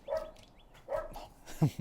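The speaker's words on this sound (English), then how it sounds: "dog's wild." A dog gives three short barks spaced about a beat apart, fairly close, with quiet gaps between them.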